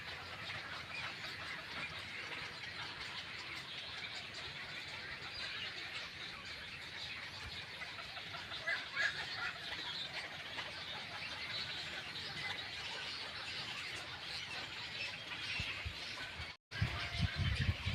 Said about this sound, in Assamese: এয়া হ'ল বিভিন্ন জলজ প্ৰাণী খোৱা চৰাইৰ এয়া ৰম্যভূমি, এয়া বাসস্থলী, এয়া বাসোপযোগী ঠাই।